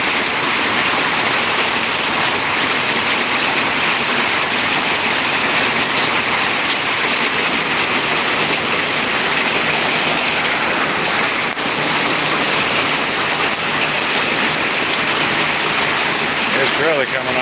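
Heavy rain pours steadily off a roof in a dense, continuous rushing wash that stays loud and unbroken throughout, with no talk.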